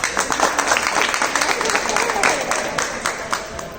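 Audience applause at a show, a dense continuous wash of clapping from a crowd, loud and steady throughout, with talk mixed in underneath.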